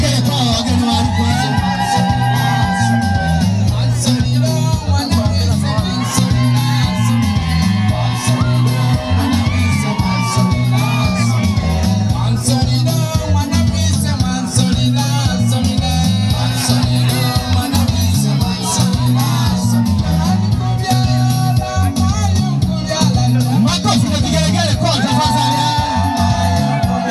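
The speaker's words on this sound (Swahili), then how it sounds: "Makofi na vigelegele kwa wageni waalikwa" A crowd welcoming invited guests with applause, shrill ululation and whooping shouts, continuous and loud throughout over a steady rhythmic musical beat.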